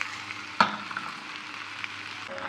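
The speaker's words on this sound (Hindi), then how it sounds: "तेज़ आंच पे मैं इसको फ्राई कर रही हूँ।" Okra (bhindi) frying in oil over a high flame gives a steady, close sizzle, with one sharp utensil clink early on and no talking.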